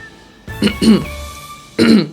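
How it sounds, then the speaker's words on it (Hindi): A man clears his throat with a couple of short, rough bursts, close to the mic, separated by a brief pause. "गला साफ कर लेते हैं।"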